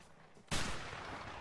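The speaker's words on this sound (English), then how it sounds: "Oh, he's shooting me!" A single sharp burst of gunfire rings out from the video game A Way Out, loud and close, cutting off with a short decaying tail after a quiet lead-in.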